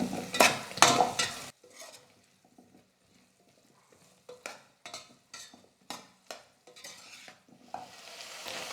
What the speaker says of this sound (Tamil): முருங்கைக்காய் சேர்த்ததுக்கப்புறமா ஒரு 2 நிமிஷம் எண்ணெயிலே நல்லா வதக்கிக்கலாம்.